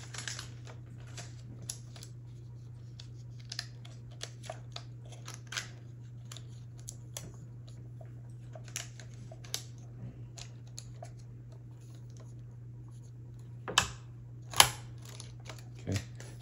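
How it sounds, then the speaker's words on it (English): Scissors snip 35mm film at the frame line to remove the end label, with sparse small clicks and handling taps over a steady low hum, then two sharper cuts near the end. "I'm going to cut it right there to get this label off the end of it."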